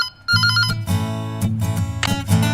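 A phone rings in a room, its electronic ringtone repeating in bursts over a steady melodic pattern, fairly loud and close, with no talking over it.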